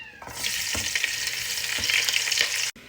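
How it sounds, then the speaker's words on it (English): Serrano peppers and onions fry in a pan with a steady, close sizzle that runs for a few seconds and then cuts off abruptly. "We're gonna fry some serrano peppers and some onions."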